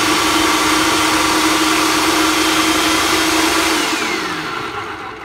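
A food processor chops a small onion with a loud, steady motor whine and buzz that runs almost the whole time, then winds down at the end. No one talks.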